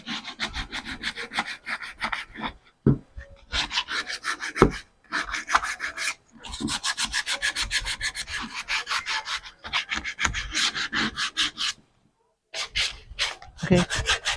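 Wood is sanded by hand with sandpaper while building a wall plant holder, producing rhythmic rasping strokes in close bursts with short pauses between them.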